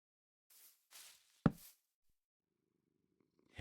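Short purring bursts from a cat in the Minecraft video game, a few soft breathy pulses followed by a louder rasp, then quiet with faint game ambience and a brief noise at the end.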